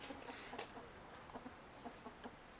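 A backyard chicken clucks in a run of soft, short notes, faint and fairly close, with light outdoor background noise.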